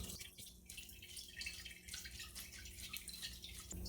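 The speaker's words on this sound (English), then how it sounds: "pour them into a colander and just let them drip for a little while" Soaked onions draining in a colander, water trickling and dripping steadily in a faint, continuous patter with no talking.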